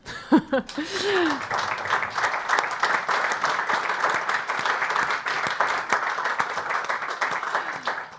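Audience applause at a press conference and panel discussion follows a brief spoken phrase, then a dense, steady round of clapping fills the room for several seconds, with a little laughter early on.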